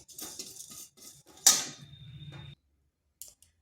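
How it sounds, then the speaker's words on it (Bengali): Roasted panch phoron spices are ground in a short burst, a few close scraping, clattering strikes followed by a brief whirring grind that cuts off abruptly, then quiet. "ভেজে করে গুঁড়ো করে নিচ্ছি।"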